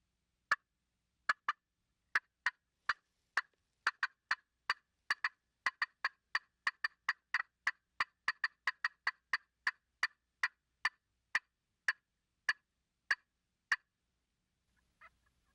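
A wooden slate turkey call imitates a hen turkey's cutting call, giving sharp, fast, irregular yelps in quick bursts that speed up and then slow before stopping, loud and close with silence between notes.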